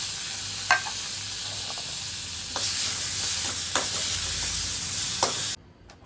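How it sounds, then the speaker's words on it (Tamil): Chopped tomato sautéing in oil in a pan for rasam gives a steady close sizzle with occasional scraping stirs, before stopping abruptly. "இதையும் எண்ணெயில் வதக்கிக்கலாங்க."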